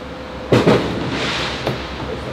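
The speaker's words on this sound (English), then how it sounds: "Also, it is the 4th of July almost, so excuse the firework sounds." Fireworks going off outside around the Fourth of July, two muffled booming bursts followed by a softer distant pop over a steady background hum, with no talk over them.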